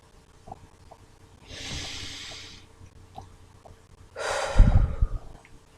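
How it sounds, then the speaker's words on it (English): Two deep breaths, a slow airy inhale followed by a louder, rougher exhale with a snort-like rush at the end, close and alone without talk. "And then breathe."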